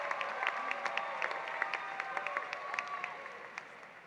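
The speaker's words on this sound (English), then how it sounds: "Please join me in applauding Dreanna Smith" Applause from a graduation audience at the KIPP Atlanta Collegiate High School 2019 ceremony honoring a valedictorian, a steady wash of clapping with scattered sharper claps and faint cheers, moderately distant, fading slightly toward the end.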